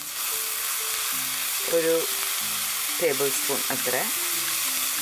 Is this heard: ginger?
yes